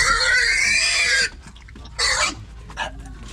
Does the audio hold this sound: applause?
no